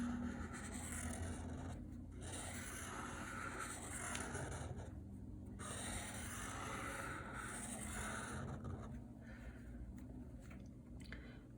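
Pen or pencil drawing electron shells by hand on paper, steady scratchy rubbing strokes with short pauses, close and quiet.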